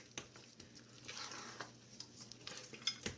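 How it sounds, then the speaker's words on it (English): Sweet bread dough being stirred in a mixing bowl, with soft scraping and clinking of a utensil against the bowl, fairly quiet and close, with no voices. "Stir it in."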